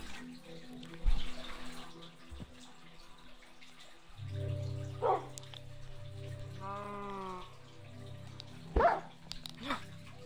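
A dog lets out a short, high whine and a few soft barks at close range, mixed with splashing and dripping water and occasional thumps.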